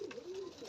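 A pigeon at a pigeon farm gives a single soft, rolling coo up close, one continuous low call that wavers in pitch.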